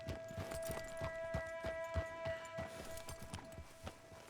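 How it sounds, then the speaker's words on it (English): A horse's hooves clip-clop in the Red Dead Redemption 2 video game, a steady, quiet walking rhythm of distinct hoof strikes over a faint ambient hum. "There's a random horse here."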